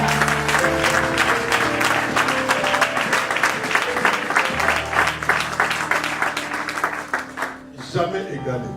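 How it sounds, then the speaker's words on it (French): A church congregation claps loudly and steadily in a sustained round of applause for Jesus, with voices and musical tones mixed beneath the clapping. "Can we clap for Jesus?"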